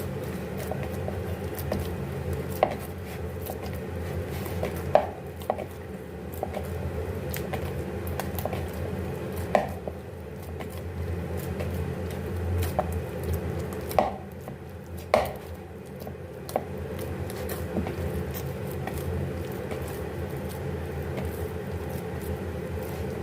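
Aloo paratha dough being kneaded with cooking oil by hand, giving soft, wet squishing and occasional slaps against the bowl at an irregular pace, close and moderately quiet, with no talking.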